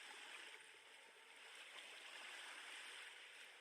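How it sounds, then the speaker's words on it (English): A river flowing steadily in Iceland, a continuous broadband rush of moving water heard as a soft, even wash with no talk over it. "Surrender to the river's steady rhythm."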